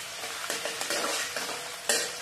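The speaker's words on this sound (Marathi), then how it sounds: "तर तेल तापलेलं आहे, हिरवी मिरची टाकते, त्याच्यात कांदा टाकून घेते, कांदा चांगला परतून घ्यायचा" Close, steady sizzle of chopped onion and green chilli frying in hot oil for fried rice, with bursts of stirring scrapes in the pan and no talk.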